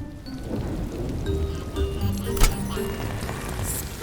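Cartoon rainstorm: a steady hiss of falling rain with scattered drops and a brief sharp crack of thunder midway, fairly quiet overall.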